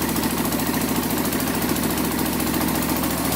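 A Kawasaki 4x4 engine idles steadily while warming up, a loud, close, even low rumble with a fast regular pulse throughout and no talking.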